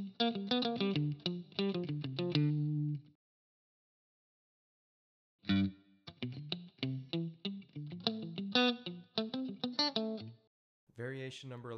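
An electric guitar run through effects plays a melodic line over a chord progression in C, bright sustained picked notes in two phrases separated by a few seconds of silence, then a short final burst.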